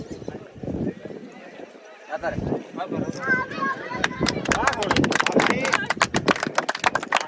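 Hoofbeats of horses racing pound rapidly under loud crowd noise and talking at a village horse race, with a horse whinnying as the galloping builds.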